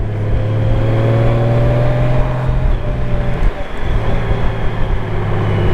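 Honda Goldwing motorcycle engine holding a steady low drone while engine braking on a ride, with loud wind rush throughout and a brief dip in the tone midway.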